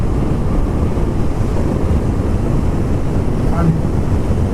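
A 2025 Bajaj Pulsar NS400Z rides at speed with a passenger aboard, its steady drone buried under constant heavy wind rush on the microphone, loud and unbroken throughout.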